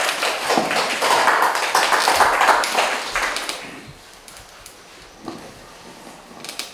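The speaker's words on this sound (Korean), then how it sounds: "박수로 맞아 주시죠" A room of listeners claps to welcome a speaker at a community talk, a dense burst of handclaps for a few seconds that thins out and trails off into near-quiet with a couple of stray claps.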